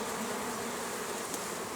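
Steady, dense buzzing of many bees, continuous and fairly close, with no voices.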